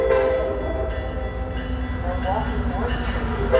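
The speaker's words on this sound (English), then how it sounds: "Milwaukee North train number 2133 to Lake Forest is now arriving." Milwaukee North commuter train number 2133 to Lake Forest arrives at Northbrook station during the evening rush hour, a loud steady rumble with a sustained horn-like tone and a voice announcing over it.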